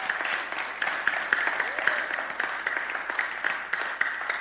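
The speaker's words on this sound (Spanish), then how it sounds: "Denle un aplauso al Señor." A church congregation claps together in sustained, dense applause for about four seconds, steady and lively with crisp individual claps rising out of the wash, and no voices over it.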